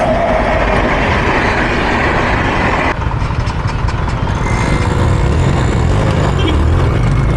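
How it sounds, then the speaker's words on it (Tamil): A train rumbles loudly past close by, its steady roar and rattling wheels filling the air, with a shift in tone partway through. "அதுதான் ட்ரெயின் வந்துச்சு."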